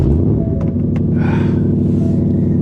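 A 2023 Ford F-150 Raptor R pickup engine starts and idles with a steady, deep rumble, loud and close, with a brief rising hiss partway through.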